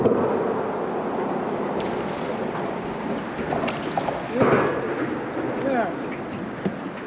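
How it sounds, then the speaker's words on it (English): A north wind of about 10 to 15 miles an hour blows steadily across a river, a continuous rushing buffet on the microphone with a few gusts, and a voice speaks briefly over it. "The wind's blowing about 10 to 15 miles an hour."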